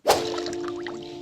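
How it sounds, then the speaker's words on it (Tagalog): Water splashes and pours into a container as it is drawn from a mountain spring, a sudden close burst followed by a steady ringing trickle with a hollow tonal resonance. "naa iyang anak nga nagsag-ob og tubig sa tubod"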